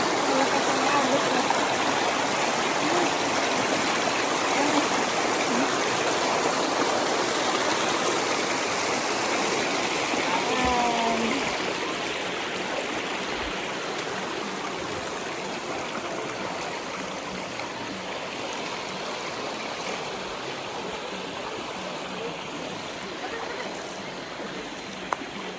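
A strong river current rushes at Kawa in Japan, a steady broadband roar of flowing water held close and continuous throughout, easing slightly partway through.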